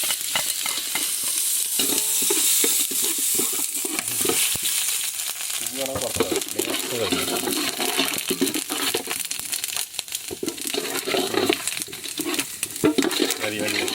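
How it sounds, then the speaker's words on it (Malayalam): Spices sizzling and crackling in hot ghee for dum biryani, a continuous loud frying hiss with stirring scrapes and rustles on top. "നെയ്യിലേക്ക് കുറച്ച് മസാലകൾ ഇട്ട് കൊടുക്കാം."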